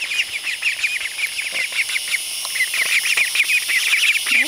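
Indian Runner ducks quack and chatter continuously over a busy outdoor background, with overlapping bird calls close by.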